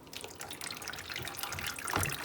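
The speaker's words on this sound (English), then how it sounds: "it just drains all the water out" Water drains through holes in the bottom of a tilted plastic fodder-growing tray of sprouting peas, a steady splashing trickle with a louder gush near the end, close by and with no talk.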